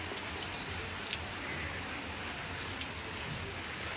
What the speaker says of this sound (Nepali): पानी कम हुँदै गइरहेछ